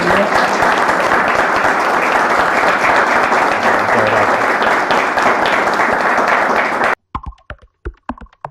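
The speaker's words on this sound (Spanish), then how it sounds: "Vamos a agradecerle con un fuerte aplauso." An audience at a young entrepreneurs program event claps loudly and continuously for about seven seconds, then the applause cuts off abruptly, leaving a few scattered claps or taps.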